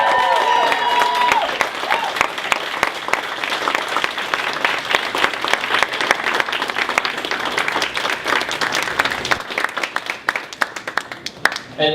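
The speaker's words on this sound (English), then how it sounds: "Let's give them a warm applause." A dinner audience at the Edna Lewis Foundation's annual dinner applauds the culinary crew, with sustained dense clapping and a few cheers over a short spoken introduction, tapering off near the end.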